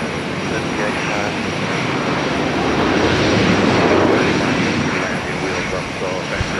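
An airliner taking off at Minneapolis–St. Paul Airport, a loud steady engine roar swelling slightly toward the middle, heard from a distance with no pauses.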